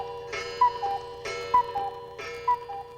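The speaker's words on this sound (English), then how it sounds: "Don't you hear the clock starting to chime?" A clock in the Shmos cartoon ticks steadily and chimes, with three bright chime strikes about a second apart over a low ticking bed, near and clear with no talking.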